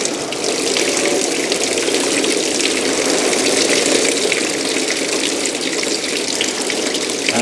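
Water gushes out of a car in a workshop, a loud, steady rushing and splashing that continues without pause and without voices.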